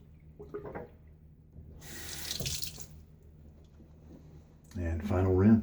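Tap water runs into a sink for a final rinse after a shave with a Gillette Tech Hybrid razor and Feather blade, a broad hissing wash that swells near the middle and returns at the end, with a voice talking briefly around it.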